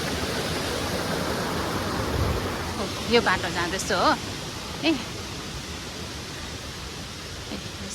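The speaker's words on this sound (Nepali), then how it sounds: "खोला हेर्नुहोस् न यो तरेर जान्छ" A stream rushes in a continuous broadband wash close by, steady throughout, while someone speaks briefly over it.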